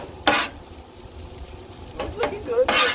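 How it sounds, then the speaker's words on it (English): Italian fried rice sizzles on a Blackstone griddle under a steady frying hiss, broken by several sharp scraping bursts as a spatula stirs and spreads the rice. "Frying."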